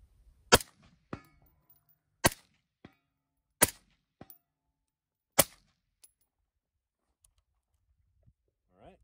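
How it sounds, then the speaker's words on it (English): Suppressed rifle, fitted with a JK MST 155LT suppressor, fires about four sharp shots at a steel target roughly 150 yards away. Fainter clicks and distant impacts follow in a quiet setting. "Shooting steel at about 150 yards, so we should be able to hear a report."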